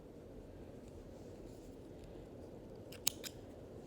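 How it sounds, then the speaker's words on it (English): Sharp scissors cut through crochet yarn with one crisp snip and a softer second one close after, over a steady low background hum. "I'm going to go ahead and cut my yarn"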